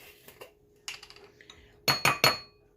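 Spoon clinking against a mixing bowl while stirring lemon loaf cake batter with lemon zest, a few light taps early then three louder, close clinks in quick succession near the end.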